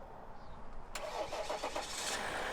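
Ram EcoDiesel truck engine, running on a jumper, cranks and catches, then settles into a steady idle, close and moderately loud with no talk.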